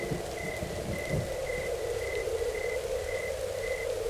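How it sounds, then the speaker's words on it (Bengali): Steady rain falls on a stormy night in a rural Bengal village, a continuous close hiss with regular high, short chirps repeating about every half second throughout. "ফোটা ফোটা বৃষ্টি শুরু হলো"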